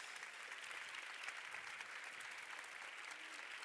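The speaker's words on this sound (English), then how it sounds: "Please give them the biggest round of applause" Warm, sustained applause from a large audience at the LUX Audience Award event, dense even clapping filling the whole stretch with no voices standing out.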